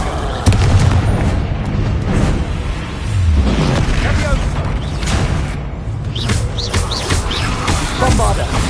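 Descendo spell impact in Hogwarts Legacy, a dense, booming magical slam with rumbling low crashes and debris-like crackle, sustained across several seconds amid other spell effects, loud and close.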